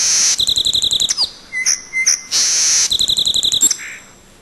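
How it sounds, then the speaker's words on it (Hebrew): A bird-call doorbell gives out bursts of rapid, bright chirping tweets, two long trills separated by a few scattered whistled notes. The sound is clear and close, with no voices. "פעמון ציוץ ציפורים."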